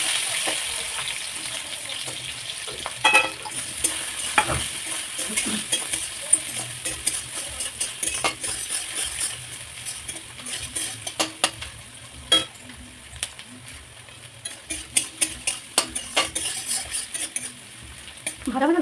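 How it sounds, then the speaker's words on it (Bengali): Chopped onion, along with green chillies, frying and stirred in a pan while cooking a spinach curry; steady close sizzle with scraping stirs and light utensil clicks throughout. "আর পেঁয়াজ কুচি করে রেখেছিলাম সেটা দিয়ে দিই।"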